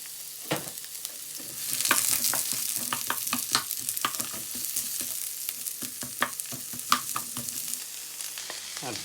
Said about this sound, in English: So stir frying the veg for the meat dish.